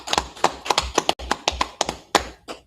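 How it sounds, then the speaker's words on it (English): Congregation at a Shabbat service clapping in steady rhythm, loud sharp hand claps in close succession filling the room for a few seconds, no talk. "Clap it up."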